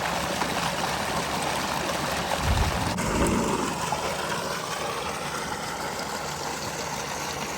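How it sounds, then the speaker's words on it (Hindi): A tubewell runs steadily, pumping water into farm fields on a cold day, producing a continuous rushing, gushing flow with an engine-like hum beneath it, loud and close, with a brief louder surge near the middle. "इतनी सर्दी में ट्यूबवेल चल रहा है, क्योंकि खेतों को पानी की बिल्कुल ज़रूरत होती है।"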